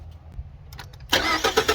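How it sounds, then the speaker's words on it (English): A 2013 Ford F-150 engine with a hard-start fault cranks after a quiet pause, catching and running loudly with a busy, rough roar through the last part. "What you're going to do now is turn on the motor."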